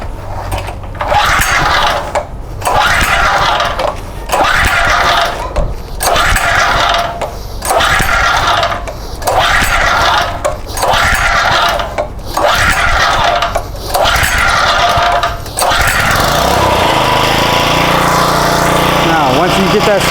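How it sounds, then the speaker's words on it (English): A Powermate 79cc gas lawn edger engine gets repeated rhythmic pull-starts, about ten even tugs, then catches and runs steadily on choke, loud and close. "Once you get that started up, let it run on the choke for a little bit."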